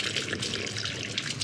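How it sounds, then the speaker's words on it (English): Water running from a mineral spring fountain in Balatonfüred, Hungary, a close, continuous splashing trickle like a tap pouring into a basin, heard alone. "We're here at the fountain, the magic fountain. Some good stinky water."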